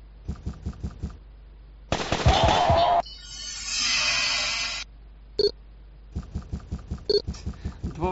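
Rapid bursts of machine gun fire in the video game Incubation: Time Is Running Out, sharp repeated shots in short volleys separated by a longer electronic whir and hum, with no talking.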